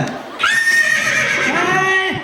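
A person loudly imitates a horse's neigh, a rising then wavering whinny lasting about two seconds.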